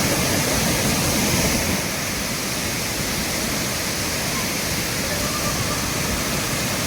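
Lakkam waterfall in Munnar, swollen in the rainy season, pours over rocks with a dense, loud, unbroken roar of rushing water.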